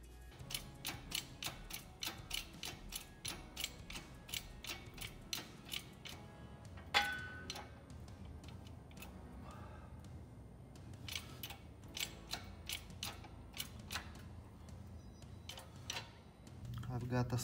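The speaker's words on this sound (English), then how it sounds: "now using lug nuts to compress the brass bushing from both" Brass bushing being pressed into the lower end of a Dnepr MT-11 motorcycle by tightening lug nuts from both ends: a steady run of close, sharp metallic ticks and clicks at a quick, regular rhythm, with a few louder clanks.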